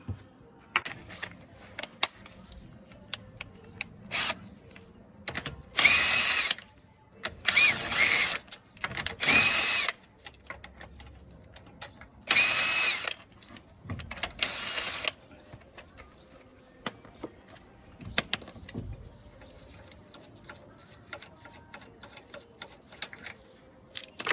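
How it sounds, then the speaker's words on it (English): An impact wrench takes the road wheel off a 2010 Ford Focus MK2, firing several short, loud rattling bursts between quiet pauses and scattered clicks of tools, with no talk. "So much easier with a impact wrench."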